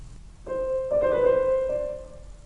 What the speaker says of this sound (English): This symbol in measure 11 denotes a turn, a type of ornament that sounds like this.